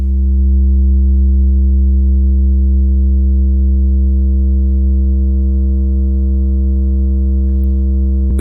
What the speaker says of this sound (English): We can see the sine wave getting squashed smoothly as we turn up the knee.